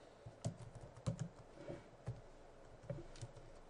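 A username being typed on a computer keyboard, with soft, close key clicks in short irregular bursts under quiet room tone and no voices.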